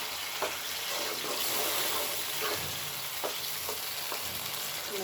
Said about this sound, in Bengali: মশলা আমার কষানো হচ্ছে।